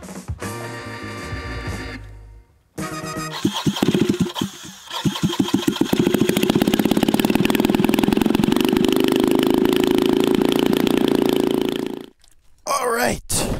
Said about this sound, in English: This time I have earplugs in because honestly, this thing is super loud.